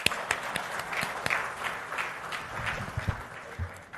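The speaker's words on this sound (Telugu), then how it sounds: "అందుకొరకు ఒక్కసారి గట్టిగా చప్పట్లు ప్లీజ్" An audience at a government presentation event applauds, with dense, moderately distant clapping that swells and fades over a few seconds, heard alone without speech.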